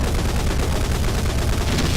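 Dense, continuous rapid gunfire from a powerful weapon in the Brutal Doom game, loud and unbroken throughout the short burst.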